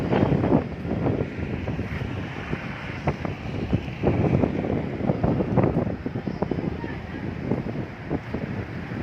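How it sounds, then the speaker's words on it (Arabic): Strong wind roars steadily into the microphone with a rushing, buffeting texture, loud and continuous, on the Nile corniche at Faraskur, Damietta; heavy rain is not clearly separable beneath it. "سرعة الرياح شديدة جدا"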